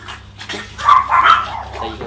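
Several small chihuahua dogs kept as pets yip and bark in quick bursts at close range, with a low hum underneath and voices around them.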